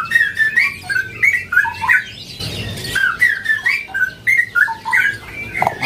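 Songbirds at a kiosk in a bird market sing loudly and close, with repeated bright whistles, squawks and chirping phrases overlapping in quick bursts throughout.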